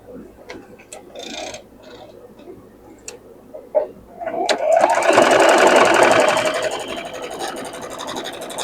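Sewing machine stitching quilt block pieces together, starting after a few scattered clicks and handling taps, then running steadily loud and close for several seconds before easing off.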